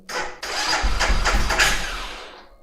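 The electric starter cranks a Mash Black Seven 125cc/250cc motorcycle engine, starting with a short burst and then rapid pulsing turns. A rough, loud rumble follows and fades away.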